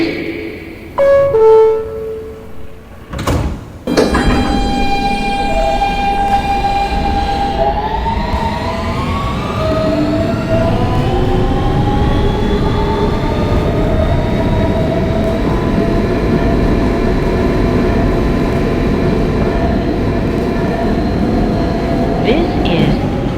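A Siemens R160B W subway train pulls away with rising motor whine that settles into a steady loud roar, after door-closing chimes and clunks at the start; an automated announcement voice is heard early on.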